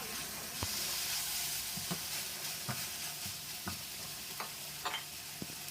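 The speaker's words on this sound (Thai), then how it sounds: "จากนั้นเราก็ผัดให้เส้นของเรา สุกก่อนเลยครับ" Glass noodles stir-fried in a pan for a basil and mushroom dish, with a steady hissing sizzle under regular light taps and scrapes of a spatula, close and without talk.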